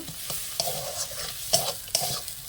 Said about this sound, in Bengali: তো দেখুন এভাবে আমি কষিয়ে নেব মশলাটা।